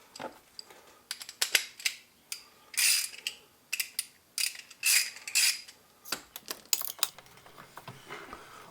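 A ratchet with a socket extension works on the stock bolt of an H&R 088 shotgun, giving quiet, close bursts of rapid clicking separated by short pauses.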